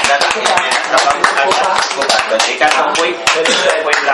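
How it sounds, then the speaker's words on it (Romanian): Applause for a first-place winner at a Romanian prize ceremony: loud, crisp clapping from a small nearby crowd with distinct individual hand strikes, mixed with voices and chatter over the top. "hai pe Toderică să-l și aplaudăm"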